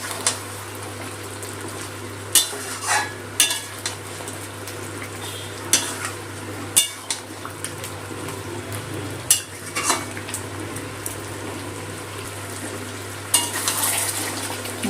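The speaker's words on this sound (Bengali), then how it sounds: "অল্প কিছুক্ষণ একটু কষিয়ে নেবো মাংসের সাথে।" Chicken is stir-fried in a pan with a paste of fried onions and cashews, a soft sizzle running underneath while a spoon scrapes and clacks against the pot in irregular knocks, close and alone.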